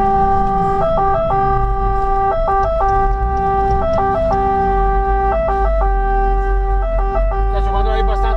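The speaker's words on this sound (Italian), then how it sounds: "bisognerebbe spegnerla, la sirena." An Italian fire engine's two-tone siren wails loudly and continuously in a repeating high-low pattern over a deep engine rumble, heard from inside the moving vehicle.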